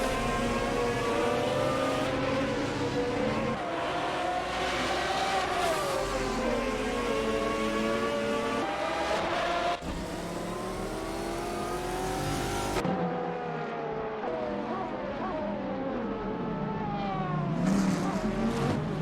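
GTR race cars lapping Road Atlanta in a racing video game, several engines howling and revving at once with rising and falling pitch as cars shift and pass, loud and continuous throughout.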